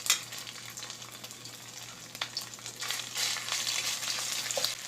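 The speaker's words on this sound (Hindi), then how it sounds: "तेल गर्म हो चुका और अब इसमें लहसुन अदरक का पेस्ट डालते हैं।" Garlic-ginger paste sizzling and spitting in hot oil, a steady crackling fry with occasional louder pops and stirring, close and moderately loud, no talking.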